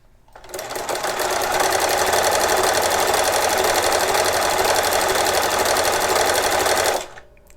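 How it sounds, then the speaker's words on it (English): Sewing machine with a pleater attachment set to pleat every sixth stitch, stitching along a fabric strip: a steady, loud, rapid mechanical whir that starts up, runs evenly for about six seconds, then stops abruptly. "My pleater is installed on my machine, and it's set to the 6, which means every 6th stitch it's going to create a pleat."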